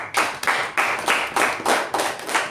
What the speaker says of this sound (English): a big round of applause to Toastmaster Kushal